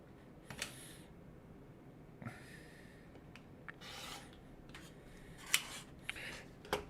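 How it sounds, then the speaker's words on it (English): Scissors or a cutter slicing through quilting fabric along a drawn line for a quilt block, heard as a few quiet, separate snipping and rasping strokes against a faint background. "So now I am going to cut right on my drawn line"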